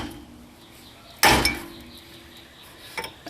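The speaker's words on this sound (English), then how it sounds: "I got a big chisel, and I'm going to give it a good whack or two and hope that I got enough to break it." A big chisel strikes a Honda Accord rear wheel bearing, one sharp loud metallic whack followed by a short ring, then lighter clinks near the end.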